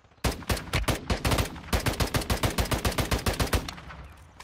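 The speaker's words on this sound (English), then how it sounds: "So many people shooting each other." Rapid automatic gunfire in the mobile shooter Warzone Mobile, with dense back-to-back bursts of sharp shots fired in steady rhythm, loud and close, with no talking.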